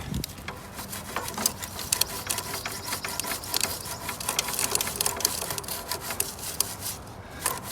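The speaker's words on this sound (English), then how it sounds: "I'm going to take another brush and I'm going to brush in on the sprocket" Brush scrubbing the sprocket of an e-bike chain drive during cleaning, heard as a continuous close scratchy rubbing with quick repeated strokes and no talking.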